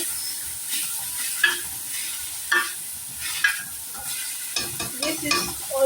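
Chicken and onions are stirred in a cooking pot in a village kitchen: an irregular run of spoon scrapes and clanks over a soft, continuous sizzle, heard close and alone.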